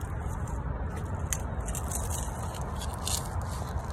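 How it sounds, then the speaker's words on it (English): Dry leaves crunch and crackle in quick, close scrunching bursts over a steady rustling background. "Don't you love how these like dry leaves sound when you crunch them?"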